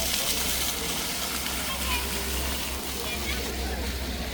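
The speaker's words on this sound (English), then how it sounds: "look at the water fountain here." Water fountain in Stockton-on-Tees town centre on a busy day, a steady rushing splash of falling water heard outdoors at moderate distance, with a person talking over it.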